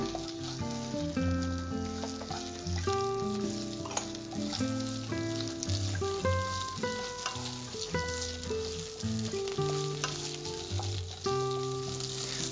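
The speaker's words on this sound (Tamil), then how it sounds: "அதை போட்டு கொஞ்சம் ஃப்ரை பண்ணிக்கலாம்" Boiled potato pieces fry in a pan with a continuous crackling sizzle, steady and close throughout, with occasional stirring noises.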